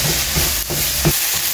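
Eggs hitting a hot pan seasoned with black pepper, a loud steady sizzle with a few scraping stirs, close and continuous.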